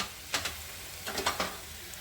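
Sesame seeds crackle in hot tempering oil with green chillies after the gas is switched off, a few faint, brief sizzling bursts over a quiet background.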